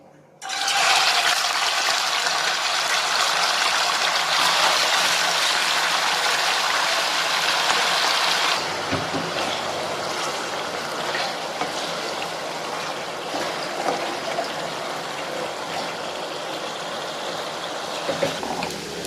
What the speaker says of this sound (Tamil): எண்ணெயில் போட்டு செம்மையாக வறுத்துருங்க